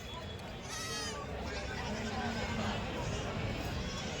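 Village goats bleating at a busy local Kathiawadi goat market on a Saturday, several animals calling near and far over a steady babble of crowd noise and voices.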